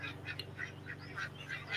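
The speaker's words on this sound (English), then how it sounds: "I'm just sitting there watching the ducks." Ducks quack nearby in short repeated calls, moderately quiet over a steady low background hum.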